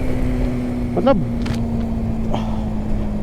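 A Yamaha R15M motorcycle engine with VVA, in third gear at about 7000 RPM, holds a steady, fairly loud drone. A short rising and falling whine cuts across it near the middle.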